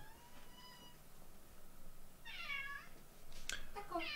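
A domestic cat meows indoors, giving a drawn-out call followed by a second, sharper meow near the end, fairly close and clear over a quiet background hum.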